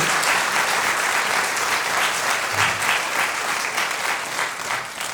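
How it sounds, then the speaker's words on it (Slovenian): An audience claps continuously at a regional children's choir gathering in Ormož, Slovenia, a dense, steady applause that tapers slightly toward the end. "Dajmo zaploskajmo vsem, ki bodo danes nastopili."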